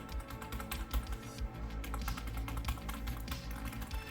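A computer keyboard plugged into an old PC being turned into a server is typed on in the BIOS, with quick clicky keystrokes over a low steady hum, close and without talk.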